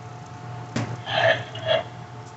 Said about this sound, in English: Okay, let's feed burping Bobby.